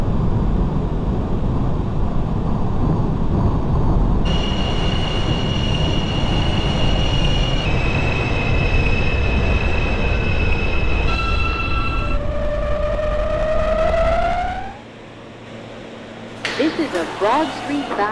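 Subway Z train (R160) running in the OpenBVE train simulator game, a loud rolling rumble with rising and falling motor whine tones and squealing wheels, then settling as it slows, with a brief electronic chime near the end.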